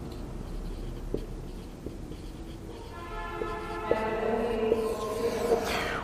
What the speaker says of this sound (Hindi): हाँ लिख देता हूं